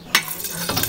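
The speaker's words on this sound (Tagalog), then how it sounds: "Ang gagawin ko ngayon dito ay igigisa ko na po lahat to." Boiled vegetables for fresh lumpia filling sautéed in a pan, a brief close sizzle with a scrape of stirring.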